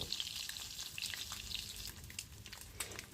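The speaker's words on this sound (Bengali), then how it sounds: "ডিমের ওপরে আমি সামান্য নুন আর হলুদ দিয়ে দিয়েছি দিয়ে এবার এটাকে আমি ভেজে নেব" Boiled eggs coated with salt and turmeric frying in hot oil, a steady close crackling sizzle with fine popping spatters, fairly quiet and continuous, no voices.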